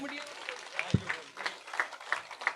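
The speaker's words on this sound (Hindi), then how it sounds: "जोरदार तालियों से अभिनंदन और स्वागत" A crowd at a public rally in the village of Rajlu claps in a loose, moderate patter, with someone talking loudly over the applause throughout.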